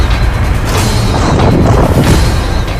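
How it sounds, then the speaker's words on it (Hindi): An Israeli Merkava tank hit by explosives in a Hamas attack, heard as a loud, sustained blast roar that fills the whole clip with dense, rumbling noise. "बड़ा धमाका।"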